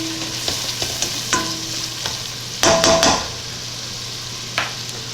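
Vegetables sweat over medium heat in a pan for shrimp-stuffed eggplant with a soft, steady sizzle. A spoon knocks and scrapes against the pan several times, including a louder burst of stirring midway, and no one speaks.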